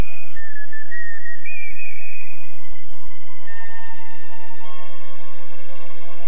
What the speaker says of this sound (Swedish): tycker att det är roligt på jorden och visslar på sina vänner